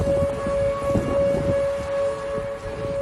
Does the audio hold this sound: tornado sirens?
yes